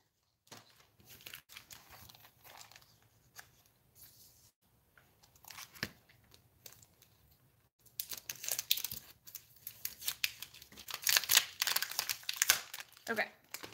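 Aluminum foil crinkles and crumples in bursts while a piece is wrapped, sparse and quiet at first, then louder and denser crackling in the second half, with someone talking at times.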